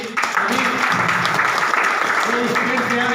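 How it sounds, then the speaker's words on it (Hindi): Loud, continuous applause from an audience at a DXN Nepal business partners meeting, with people talking and calling out over the clapping. "उनके लिए जोरदार ताली"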